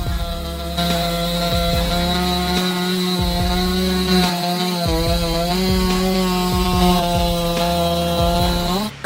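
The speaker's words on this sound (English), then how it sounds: "Which MS chainsaw cuts wood the fastest? First, the MS 661." A Stihl MS 661 chainsaw cuts through wood, its engine held at a loud, steady high whine throughout, with slight dips in pitch as the chain bites, and no talking.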